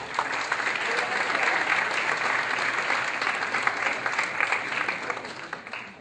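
Audience applause at an education conference after a speaker's introduction: a full, even wash of many hands clapping that holds steady and tapers slightly toward the end.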